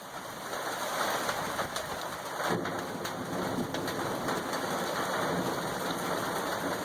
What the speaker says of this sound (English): there's certainly a lot of wind and rain coming through